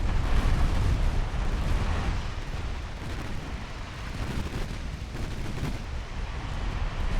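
Naval gunfire on a battleship in the Ultimate Admiral: Dreadnoughts game, a continuous rumbling barrage of heavy booms and blasts rolling over one another without pause.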